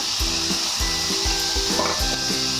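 Tomato sizzles steadily in hot oil in a pan while sorakaya dappalam, an Andhra-style bottle gourd curry, cooks, with a dense continuous hiss and rhythmic stirring scrapes about every half second, loud and close, with no talk.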